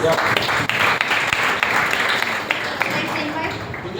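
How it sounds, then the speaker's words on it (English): A room full of people applauds steadily, a dense wash of clapping that stays at an even level throughout, with a voice faintly under it. "give him a big round of applause"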